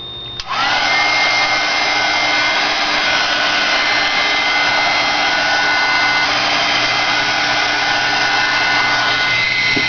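A hair dryer switches on and blows steadily to dry paint on a steampunk floral artist trading card, a loud, close, continuous whooshing roar with a constant whine.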